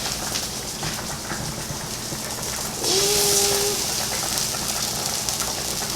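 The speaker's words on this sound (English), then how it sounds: "when your oil gets hot, you're just going to start frying your fish." A steady sizzling crackle of salmon frying in hot oil, brightening and intensifying midway as something hits the pan, with a brief tonal squeak.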